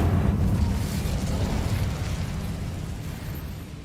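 Casting the Incendio fire spell in Hogwarts Legacy produces one fiery, rumbling burst that starts loud and full, then slowly fades over a few seconds.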